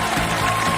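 A studio audience gives J.D. Vance a round of applause as he walks onto the set, a dense steady wash of clapping held at an even level throughout the brief moment.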